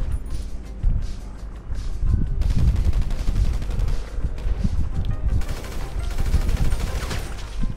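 Dense gunfire from a Grand Theft Auto V adversary match, with rapid automatic bursts and overlapping shots rattling loudly and almost without a break, some heavier cracks mixed in, and a voice briefly under the shooting.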